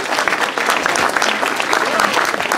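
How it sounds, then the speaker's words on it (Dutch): A crowd applauds cycling race champions at a village road race, dense sustained clapping close by with a voice talking over it. "We gaan nog eenmaal ovationeel applaudisseren voor deze drie kanjers."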